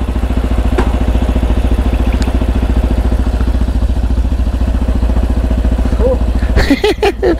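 A Road Prince RX3 Cyclone motorcycle idles close by with a loud, steady, rapid chugging throb. Near the end a voice speaks briefly over the engine.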